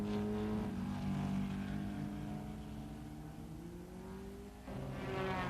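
A 1957 Maserati Formula 1 racing car roars past at the German Grand Prix, a strong engine note that holds steady, dips slightly in pitch, then surges again as another car approaches.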